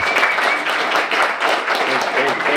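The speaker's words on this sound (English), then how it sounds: "Let's give him another round of applause" A crowd at a lunch event honoring Atlanta football player Grady Jarrett gives a loud, dense burst of applause that sounds close and continuous, with a bit of cheering mixed in.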